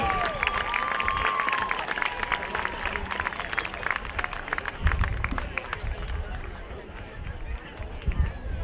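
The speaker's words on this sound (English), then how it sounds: "congratulating these young men with a warm round of applause" A high school crowd at a Utah 2A state football championship gives a warm, sustained round of applause with cheering and babble, honoring the young men of the winning team, while a voice carries over the noise.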